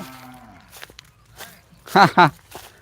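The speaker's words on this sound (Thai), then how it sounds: "วัวเดินมาติดอยู่" A cow lowers a long moo near the microphone, then two loud, close bellows follow, with scattered hoof steps and light rustling in between.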